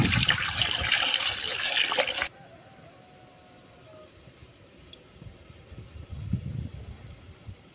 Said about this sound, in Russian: Вода в соседней кастрюле у нас закипела, поэтому моем рыбу и будем ее варить.